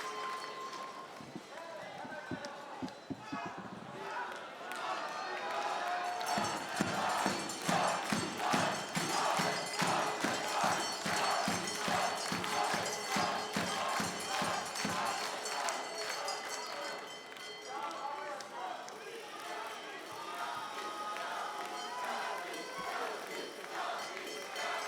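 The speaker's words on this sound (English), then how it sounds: "you hear the crowd chanting Régie" Crowd at the Bocuse d'Or cooking competition chanting a name in a rhythmic, repeated cadence with stamping and clapping, loud and sustained, fading out with talk underneath near the end.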